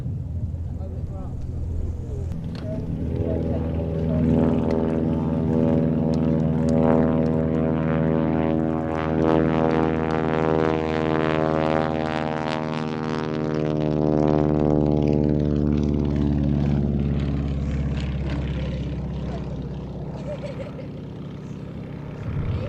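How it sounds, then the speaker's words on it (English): A Stinson SR Reliant cabin monoplane at the Little Gransden airshow, its engine a loud, steady, close drone with a strongly harmonic tone whose pitch slowly dips and rises as it runs. "This aircraft was originally developed by Stinson Aircraft of Wayne in Michigan as an affordable and rugged cabin monoplane"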